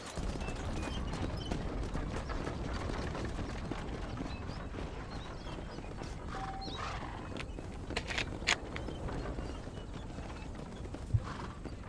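Stagecoach horses clip-clop at a steady pace in Red Dead Redemption, with creaking wheels and rattling harness. A few brief sharper knocks cut through the continuous rolling rumble.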